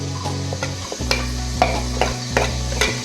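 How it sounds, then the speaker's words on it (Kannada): Carrots and other vegetables sautéing in hot oil with a dried chilli in a single pot for bisibelebath, a loud close sizzle broken by repeated sharp stirring scrapes and clanks. "ತರಕಾರಿಗಳನ್ನು ಒಂದೊಂದಾಗಿ ಹಾಕಿ ಬಾಡಿಸ್ತೀನಿ ಕ್ಯಾರೆಟ್ ಹಾಕ್ತಾ ಇದ್ದೀನಿ"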